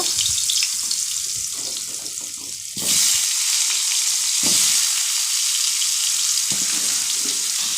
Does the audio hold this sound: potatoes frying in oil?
yes